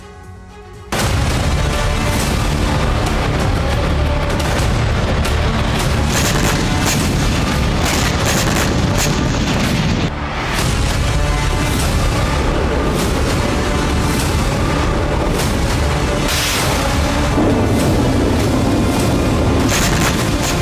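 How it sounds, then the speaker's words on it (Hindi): Dense, loud booming blasts and rumbling detonations from a Russian drone crashing onto a city street in Poland, one heavy sustained roar of explosions filling the whole stretch with a brief dip midway. "दावा है कि शहर की एक सड़क पर रूस का ड्रोन गिरने से जबरदस्त विस्फोट हुआ।"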